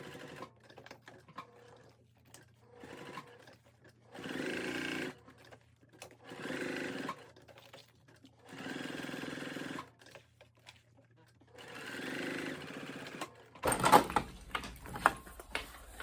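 A sewing machine quilting a triskele wallet runs in five short stitching bursts separated by quiet pauses with light handling clicks, ending in a louder clattering burst.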